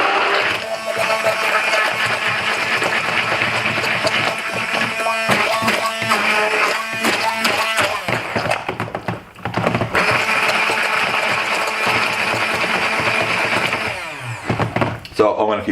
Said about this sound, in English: Be good if I turned the stick blender on.